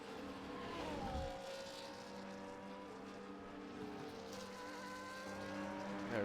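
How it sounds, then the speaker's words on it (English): A Formula 1 car pulls out of the pit lane in an F1 racing game at Baku, its engine a continuous high whine with tones that climb and dip, no voices over it. "He exits from the pit lane as Hubday gets ahead of Rambo Jambo."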